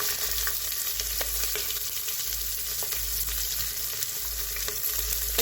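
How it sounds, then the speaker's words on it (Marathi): Sliced onion, green chillies and whole spices sauté in a pan for masale bhat, making a continuous close frying hiss with occasional stirring scrapes and a low steady hum underneath. "हे चांगलं परतून घ्यायचंय"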